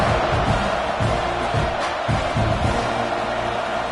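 A dense, loud stadium crowd roars and cheers steadily throughout a College Football 26 game, with commentary faintly mixed into the broad wash of noise.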